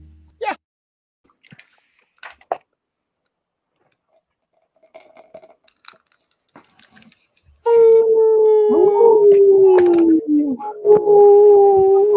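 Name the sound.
person imitating a howl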